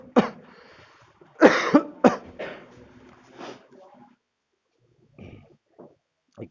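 A few sharp coughs burst out in quick succession, close and fairly loud, followed by quieter throat sounds and a faint trailing cough.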